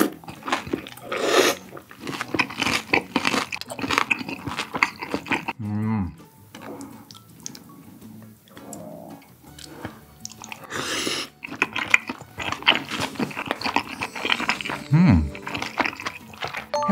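Crispy Korean flat dumplings (napjak mandu) served with spicy seafood rice cakes are bitten and chewed up close, with crunchy mouth sounds between stretches of talking.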